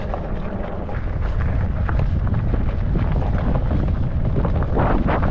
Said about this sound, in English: Way out here in the open fields, man, this wind is just nuking.